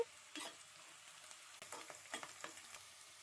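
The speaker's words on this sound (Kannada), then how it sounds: "ಎರಡು ಕಟ್ ಮಾಡಿರೋ ಈರುಳ್ಳಿ, ಸ್ವಲ್ಪ ಕರಿಬೇವಿನ ಸೊಪ್ಪು ಹಾಕೋತಿದ್ದೀನಿ." Chopped onion and curry leaves frying in a pan with mustard seeds, a faint steady sizzle broken by a few soft scraping stirs, close and quiet, with no voices.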